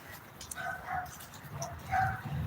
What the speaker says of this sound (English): I know, Chong, those little dogs are barking at you.